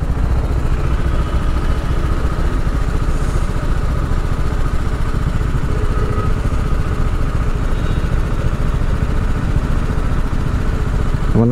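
A motorcycle engine drones steadily and loudly throughout a ride on a road in Goa, with constant clattery mechanical rumble and no voices.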